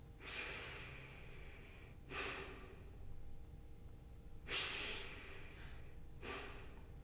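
A voice imitates very noisy breathing: four loud, rasping breaths in and out, close and alone, spaced about two seconds apart in a quiet room.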